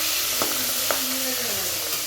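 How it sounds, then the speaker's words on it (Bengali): Bhetki fish head frying in hot oil, a steady broadband sizzle and hiss throughout with a couple of brief sharper pops, heard close and alone. "এই দেখো মাছ ধুয়ে মাছ ভাজা বসিয়ে দিয়েছি"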